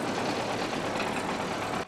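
A tractor engine runs with a steady, dense, rumbling drone, close and continuous for a couple of seconds before cutting off abruptly.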